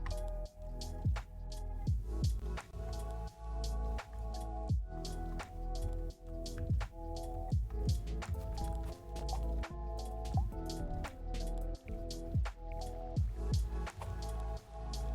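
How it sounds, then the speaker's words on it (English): Rain in a cozy alpine lake video game, a steady patter of individual drops and soft splashes repeating throughout, set over a tonal ambient background, with no talking. "I hear rain."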